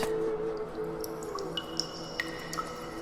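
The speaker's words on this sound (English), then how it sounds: "every drip from the cave lime icicles" Water drips from limestone icicles in a cave, several sharp, separate drops plinking over a steady low hum, mostly in the second half.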